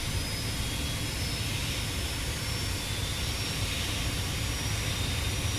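Fokker F28 twin jet engines fitted with hush kits, a steady loud roar with a broad rumble and faint high whine that holds constant throughout, with no voices.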